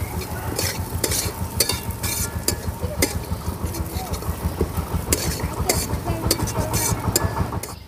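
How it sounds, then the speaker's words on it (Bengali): Flattened rice (chire) frying in hot oil over a low flame while being stirred, giving a steady close sizzle broken by regular scraping stir strokes and a low hum beneath. "তাই আমি ধীরে ধীরে জালটা দেব আর চিড়েগুলো নাড়তে থাকবো"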